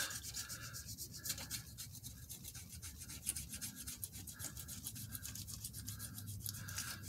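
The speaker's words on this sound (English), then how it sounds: "Maybe a little wire wheel on the end of a drill." A drill-mounted wire wheel brush scrubs metal near a brake line on a 2003 Jeep Wrangler TJ Dana 44 rear differential, with a continuous, rhythmic rasping and scratching, fairly quiet and close.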